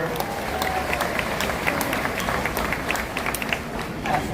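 An outdoor audience at a theme park animal show claps for a volunteer, a steady wash of applause with a few sharper hand claps standing out and a voice faintly underneath.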